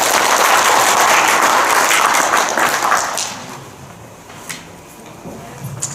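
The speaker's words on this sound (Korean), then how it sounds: "박수 한번 주세요." Audience applause at a Korean referee and coaches' seminar, a dense, loud wash of clapping for about three seconds that then fades to sparse scattered claps and quiet.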